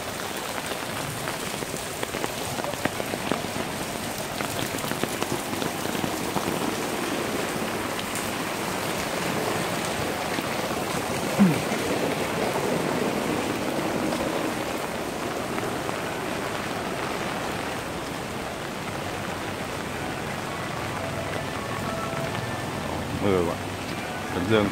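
Steady rain pours over a street in Saigon, a dense, even hiss that fills the whole stretch with only small swells and scattered louder drops.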